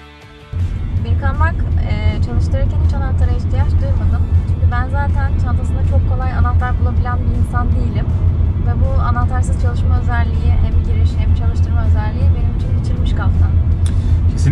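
A Honda Jazz e:HEV hybrid car comes on with a sudden jump in level, then drives with a steady low rumble and road noise under continuous conversation between two people.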